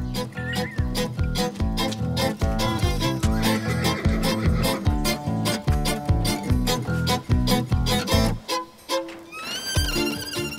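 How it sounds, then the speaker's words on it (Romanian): A horse whinnies amid loud, dense background music in a Romanian village comedy scene with a horse and cart; the neigh is mostly buried under the steady musical track. "Râde calul, mă. Are și el momentele lui când râde."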